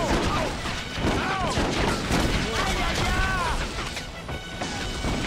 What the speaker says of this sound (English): You're not drawing the machine gun fire, friend.